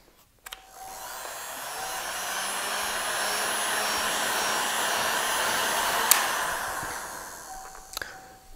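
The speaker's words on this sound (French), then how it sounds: "on va venir chauffer à l'aide d'un décapeur thermique ou d'un sèche-cheveux la plateforme" A steady, loud rush of blowing air from a heat gun warming the platform and glued tube of an inflatable boat runs for several seconds, switching on abruptly and cutting off near the end with a click.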